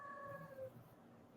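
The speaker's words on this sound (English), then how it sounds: "I can hear a cat meowing." A female cat in heat gives one drawn-out, tonal meow in the first half second or so, fairly faint and indoors, then it fades into quiet room noise with no talking.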